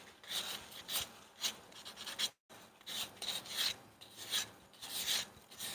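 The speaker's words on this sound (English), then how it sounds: "I'm going to kind of try to sand and scuff in a way that it's kind of like a sweeping movement" Sandpaper scuffing the surface of a tumbler in sweeping strokes, a repeated rhythmic rasping with a brief pause midway, close and steady, with no talking.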